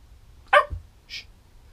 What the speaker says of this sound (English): the dog's talking again